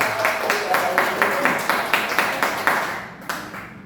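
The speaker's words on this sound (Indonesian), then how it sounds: "Sekali lagi, aplaus buat Bu Herlina SPDSD." Scattered group clapping for Bu Herlina at an elementary school event, quick handclaps at an even rhythm that thin out and fade toward the end.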